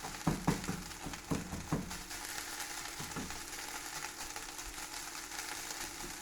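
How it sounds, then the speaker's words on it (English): Assassin's risotto with tomato frying hard in a pan, a steady loud sizzle with a few sharp scraping stirs near the start, continuous and close. "So, keep hard frying."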